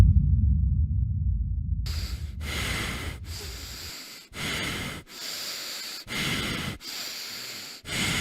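An extreme ultra-distance runner, more than 200 km in on a frigid third night with his lungs seizing up, breathes in harsh, rasping gasps, close and loud, each strained breath separated by brief pauses in a regular rhythm.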